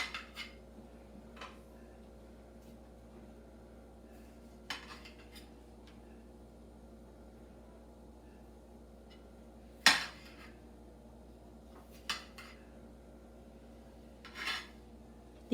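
A knife slicing farmer's market tomatoes on a board, a few scattered soft cuts and taps spaced several seconds apart against a quiet background.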